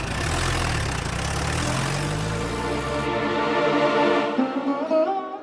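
A vehicle engine runs with a low, rough rumble that shifts in pitch. About halfway through it drops to a quieter, uneven idle with a few tonal hums, and no one speaks over it.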